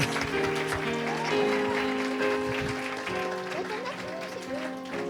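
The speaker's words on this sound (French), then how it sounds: "Là, vous avez applaudi à peine trop tôt" Audience applause at a Christmas celebration, a steady patter of many hands clapping continuously alongside sustained piano notes, with a voice talking over it.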